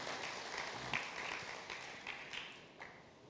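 A church congregation applauds during a sermon, a steady wash of many hands clapping at a distance, fairly faint, lasting a few seconds with a slight fade.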